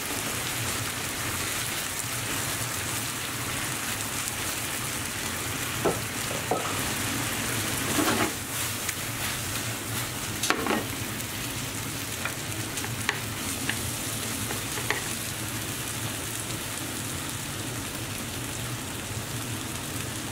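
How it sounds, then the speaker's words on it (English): Three cups of cooked jasmine rice are stir-fried over low to medium heat for Indonesian nasi goreng, producing a steady, dense sizzle that crackles like rain throughout, with occasional scrapes and taps of the utensil, close and continuous, without speech. "At this point I'm going to add in 3 cooked cups of jasmine rice."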